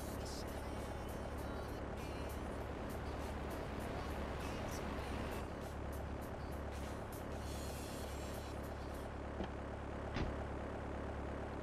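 A plane engine in Grand Theft Auto: The Trilogy, a steady droning hum with a faint propeller-like buzz that stays even and fairly quiet throughout, with a few soft clicks and a brief knock near the end.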